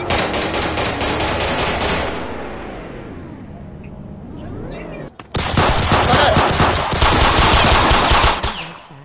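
Gunfire in a Roblox street game, a loud sustained automatic burst that fades into a lull, then a second heavy rapid volley, close and dominant over faint background noise.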